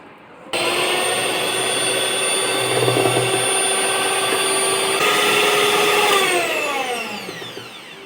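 A mixing appliance blends mango cake batter with milk, a loud steady electric motor whine that runs for several seconds and then winds down, its pitch sliding lower as it slows.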